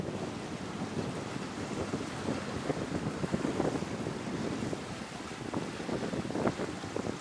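A Jeanneau 51 sailboat under sail at about 8 knots, returning from Newport toward Warwick with a 109 headsail and the main fully out. Steady wind rush and water wash fill the sound without pause, and no one speaks.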